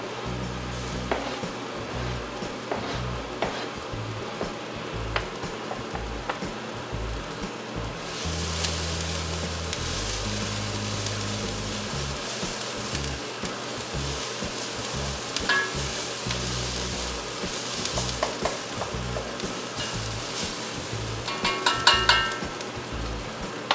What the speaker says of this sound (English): Alright, to the onion, I'm going to add the garlic now.